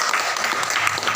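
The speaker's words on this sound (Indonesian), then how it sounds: "Maka kita perlu tepuk tangan untuk beliau." Audience applause at a Dewan Kesenian Bengkayang arts council gathering, a short steady burst of many hands clapping at even loudness throughout.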